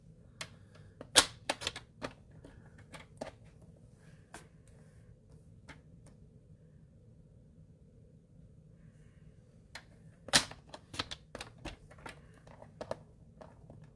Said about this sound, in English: I'm just going to trim it down to size